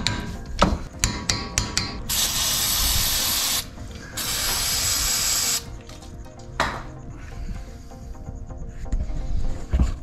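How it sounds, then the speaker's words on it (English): A torque wrench tightens brake caliper bolts on a Mitsubishi Pajero Sport QE, giving quick ratcheting clicks, then two long loud rasping bursts up close, followed by scattered knocks and softer mechanical rattles. "we're going to do these up. These are 88 Newton meters, give or take 5. And yeah, use a torque wrench."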